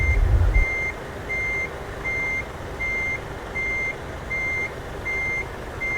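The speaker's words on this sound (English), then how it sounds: "does have kind of a loud beeper on the back for reversing." Truck reversing beeper in Euro Truck Simulator 2 game, a regular series of loud sharp beeps about every half second over a low engine rumble, after a brief heavy thud at the start.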